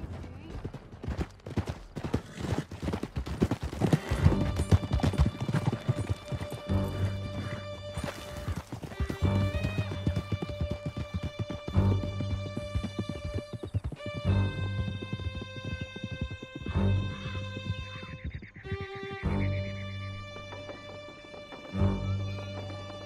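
Horses gallop in the video game Red Dead Redemption, rhythmic hoofbeats with occasional neighs, blended with a musical score and voices talking over the ride.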